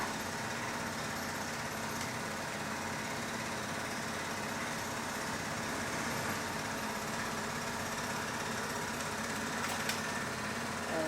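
Electric mixer blending cold coffee with milk, a steady loud whirring drone that runs without pause from start to finish, with no voices.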